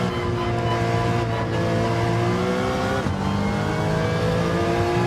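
A race car speeds down the straight, its engine a loud, steady high-revving drone that holds close throughout with a slight pitch shift midway, and no voices over it.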